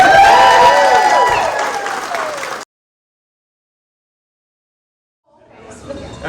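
Crowd applauding at a ribbon cutting ceremony for a credit union's new building, a dense burst of clapping and cheering that cuts off abruptly, then silence before faint sounds return.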